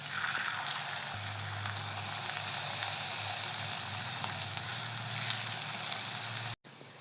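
Steady, close crackling sizzle of okra snack pieces frying in hot coconut oil in a pan, with a low hum beneath and no talking.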